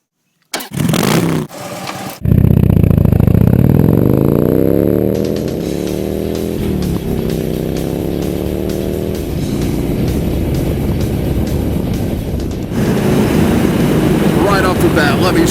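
A 2012 Harley-Davidson Switchback with its big V-twin 103 engine starting up with a few quick bursts, then a loud sustained roar, revs rising and falling as the motorcycle pulls away and rides on.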